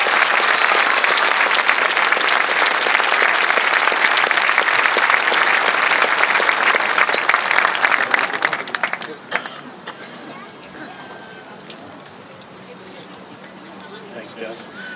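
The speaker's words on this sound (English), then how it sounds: "If we could please have a round of applause for our wonderful advisors." A large crowd at the 2014 Leominster High School graduation ceremony claps loudly for the advisors. The dense, sustained applause lasts about nine seconds, then drops away to faint crowd murmur.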